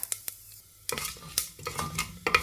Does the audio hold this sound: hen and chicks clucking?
no